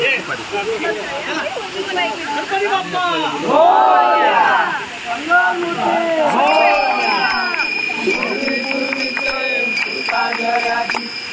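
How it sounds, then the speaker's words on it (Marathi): A small waterfall beside a village house makes a steady rushing wash. Voices and chanting from a crowd are layered over it throughout, close and loud. "हा किती सुंदर इथे छोटासा धबधबा आहे."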